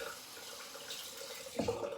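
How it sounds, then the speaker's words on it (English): Lukewarm water runs from a tap to rinse off a handmade Persian lime and lemongrass soap, a soft steady hiss with a brief splashing surge near the end, close but quiet. "let's see what it feels like when we rinse. So starting with warmish water, well, lukewarm."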